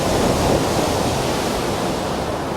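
Roaring surf with a steady, dense wash of crashing water that stays loud and unbroken throughout, with no voices.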